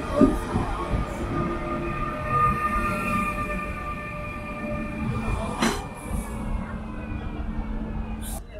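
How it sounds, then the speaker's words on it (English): Railway station ambience at Fredericia station, Denmark, with a rumbling train, squealing wheels and a steady mechanical drone, a sharp clank partway through, and faint voices in the background. "Now we are at Fredericia train station."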